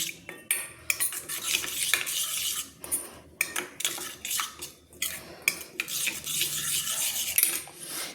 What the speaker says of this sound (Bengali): সব মশলাগুলো গুঁড়ো মশলাগুলো দিয়ে আমি একসঙ্গে জলে কিন্তু গুলিয়ে নিলাম